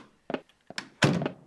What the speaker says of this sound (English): Why do I keep hearing a door?